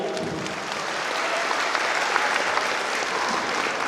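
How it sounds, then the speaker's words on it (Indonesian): An audience at an evening talk forum in Kupang gives sustained applause, a dense even wash of many hands clapping at moderate distance. "hadirin yang berbahagia, mari kita beri aplaus sekali lagi"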